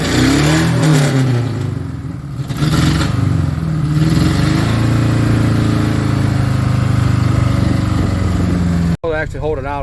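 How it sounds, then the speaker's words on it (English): A Ford Ranger engine with known problems revs after new spark plugs, a loud, close mechanical drone that rises and falls in pitch, steady throughout, then briefly cuts out near the end before resuming. "So we definitely have an engine that has some problems here."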